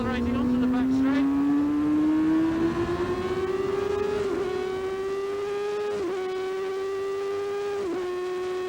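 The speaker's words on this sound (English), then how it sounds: "And then accelerating onto the back straight." 750cc TT F1 racing motorcycle at a 1990 Snetterton race, its engine screaming loudly as it accelerates onto the back straight, pitch climbing steadily with brief dips at gear changes, close and continuous.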